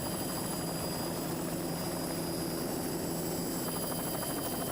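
Steady, loud broadband rotor and turbine drone from a video helicopter hovering over a 1993 offshore powerboat race near Islamorada, continuous and unbroken with no voices.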